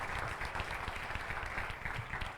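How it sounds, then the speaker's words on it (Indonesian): Congregation clapping in a church during a worship service, a steady dense wash of applause sustained throughout at moderate level. "Beri tepuk tangan yang meriah buat Tuhan."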